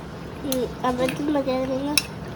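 A spoon stirs rasam ingredients in a metal pot, making close clinking and scraping against the sides, with faint room noise and a couple of sharp taps.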